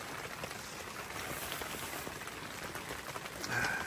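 Steady rain pattering on a tent and campsite during autumn camping, a dense even hiss of drops that holds for the whole stretch with no voices.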